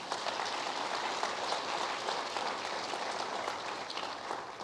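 Sustained audience applause at a university president's State of the University address, a dense, steady wash of many hands clapping that holds evenly for several seconds with no talk over it.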